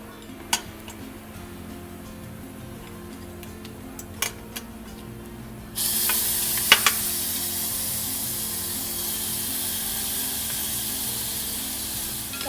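Chopped tomato hits a hot pan of browned garlic and onion, and a sudden loud sizzle bursts in partway through and holds steady, with a few sharp clinks of utensil on pan before and during.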